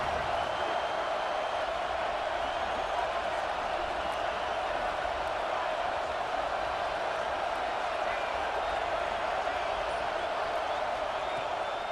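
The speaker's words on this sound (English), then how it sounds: "Decibels rising as the crowd gets behind this defense on third down." A stadium crowd at a football game keeps up a steady, distant roar as the defense lines up on third down. The broad, even wash of noise stays fairly level for the whole stretch.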